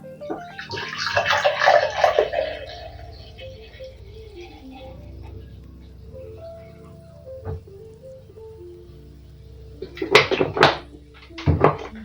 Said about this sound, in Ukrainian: От, який він газований, класний, наливаємо.